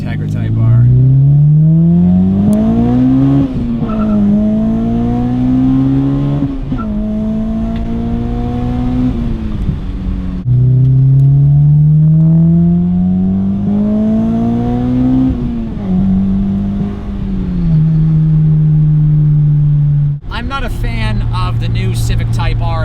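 A Honda Integra Type R with a K20 engine revving hard through the gears, loud and close from inside the cabin, with rising pitch sweeps and a brief shift dip between each one.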